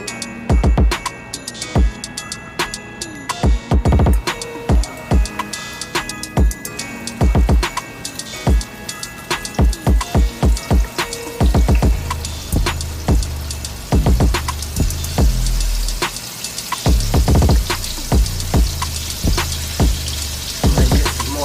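Battered chicken fried steak sizzles in hot oil, a steady bubbling crackle with dense popping spatters throughout, loud and close with no talk.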